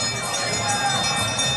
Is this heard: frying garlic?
no